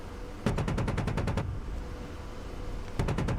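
Rapid automatic cannon fire from an AI-flown helicopter in DCS, the combat flight simulator, heard as a loud burst of about nine evenly spaced shots, a pause, then the start of a second burst over steady engine rumble.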